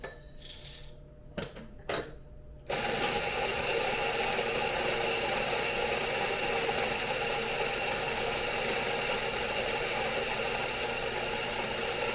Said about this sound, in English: There we got those beans, and then grind them.